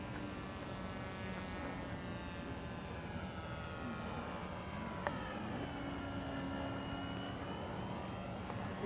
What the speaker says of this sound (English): There's something wrong with the speed control, because that motor should have been shut down.